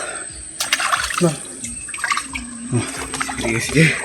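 Strong current rushing through a village canal, a steady wash of flowing water with voices talking over it throughout.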